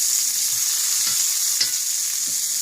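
Pork chops sizzle steadily while browning in a hot pan, with an even frying hiss and a few soft scrapes and taps from turning them.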